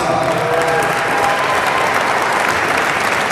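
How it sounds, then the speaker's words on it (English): Dense, continuous clapping from an audience at a hall of fame induction ceremony, held at an even level for a few seconds with no talk over it. "Let's give them a round of applause."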